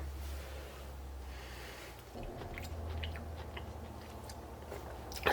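Someone chews a piece of still-crunchy cooked beetroot close up, giving soft irregular crunching and clicking bites over a low background hum, with no talking.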